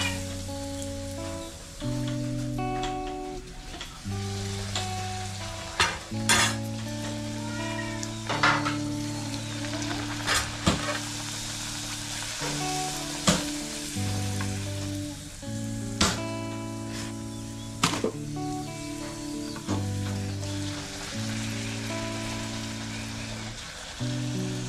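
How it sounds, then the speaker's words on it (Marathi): Chicken puris fry in hot oil, a continuous crackling sizzle with bursts of bubbling, while steady tonal background music or hum runs underneath throughout. "पुरी तळायचा कार्यक्रम चालू आहे"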